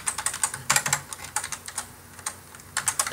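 Quick bursts of typing on a computer keyboard, close and crisp, with clustered keystrokes, short pauses and a final flurry.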